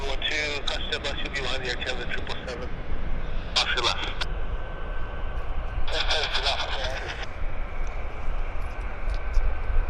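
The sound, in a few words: jet airplanes at Vancouver Airport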